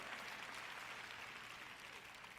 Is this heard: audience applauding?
yes